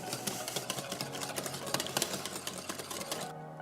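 A mustard dressing is whisked briskly in a bowl, with fast, rhythmic metallic clicking and tapping that runs continuously, close and fairly loud, before cutting off near the end.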